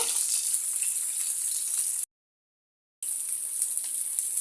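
Rui fish frying on one side in a hot pan, giving a loud, continuous hissing sizzle that cuts out completely for about a second before resuming just as strongly.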